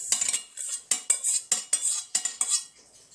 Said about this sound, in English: I'm just gonna pour this out of the pot into this